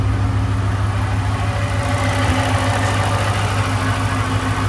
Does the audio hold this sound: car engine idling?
yes